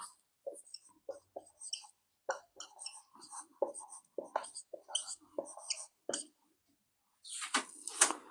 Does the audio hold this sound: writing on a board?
yes